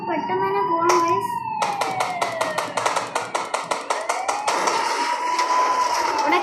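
Police car siren in an Indian bikes driving video game, a steady wailing tone sweeping up and down under a rapid series of sharp clapping or slapping hits, with a brief voice.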